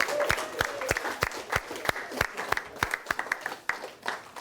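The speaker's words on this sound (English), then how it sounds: "OK, give yourselves a round of applause." A small group of students claps in a classroom, the individual claps sharp and distinct, quickening into a brief scattered burst before trailing off.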